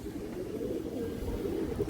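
Pigeons, a pair including a large hen, coo softly and continuously in a low, murmuring tone, faint and close with no voices.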